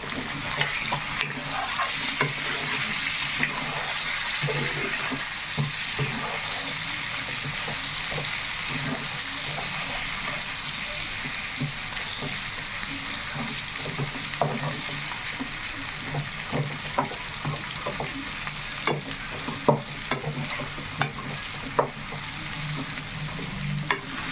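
Chicken frying in a pan gives a continuous loud hiss and sizzle across the whole stretch, with intermittent scraping and clattering as it is stirred and mixed up close, and no one speaking.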